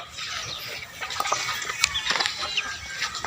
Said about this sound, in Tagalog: So, yan yung mga manok.